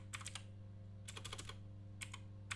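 Keys clacking on a computer keyboard while a file name is typed, in two short bursts of rapid strokes with single taps after, over a steady low electrical hum.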